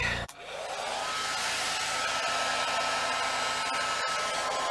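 A 1,875-watt hair dryer powered by a generator starts with a click and then blows with a steady, loud whooshing hum throughout, with no voices.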